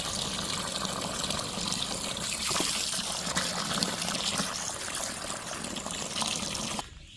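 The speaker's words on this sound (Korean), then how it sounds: "다시 물을 넉넉히 받아갖고" Water runs from a tap into a pot for cooking chicken over a wood fire, a loud continuous gushing splash that holds steady and then cuts off abruptly just before the end.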